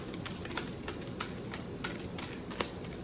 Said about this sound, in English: They're kind of hard to shuffle.